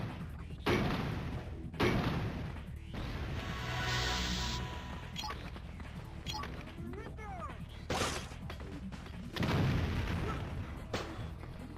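Weapon fire in the video game Resident Evil The Mercenaries 3D: several heavy booming shots and thuds spaced through the clip over a constant game background, with a voice talking between them.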